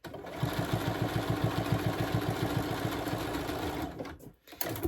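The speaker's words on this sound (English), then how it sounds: "just to slow down and just give the machine a chance to get over all of those seams" A sewing machine stitches across the thick seams of a rag quilt, its needle running in a fast, steady close-up rhythm before stopping near the end.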